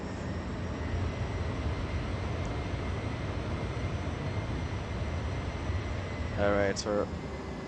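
Toliss A319 airliner engines spool down to idle in X-Plane 11 on approach, a steady broadband jet roar that holds throughout, with a person speaking briefly near the end.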